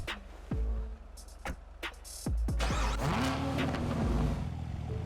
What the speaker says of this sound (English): the Alpha 6 Camaro. Listen to this thing start up.